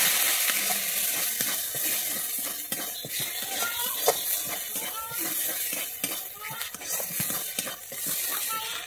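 Onions and spices with turmeric frying in a pan for an egg curry, a spoon stirring with busy scraping clatter over steady sizzle while a person talks.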